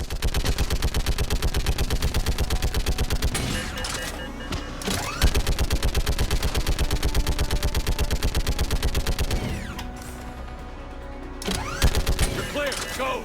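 Sustained rapid automatic gunfire from a big gun in Mass Effect 3, loud and continuous in long bursts with brief pauses, mixed with game effects and occasional speech.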